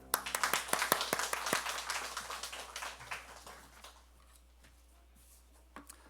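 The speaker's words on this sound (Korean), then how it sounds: "하나님께 우리 영광의 박수 합니다." Church congregation clapping to glorify God during a Korean Sunday worship service, brisk dense clapping that thins and fades out after a few seconds, leaving a quiet room with a few stray claps.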